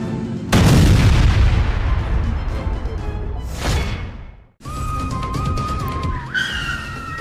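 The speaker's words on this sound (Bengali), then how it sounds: "আর এখানে আসার মতেই আমার বাইকটা বোমের মতো ব্লাস্ট হয়ে যায়" A cartoon motorbike blows up like a bomb during a race: a loud, sudden boom with a long rumbling decay, then a sharp cut to silence before a new noisy scene with a steady electronic whine.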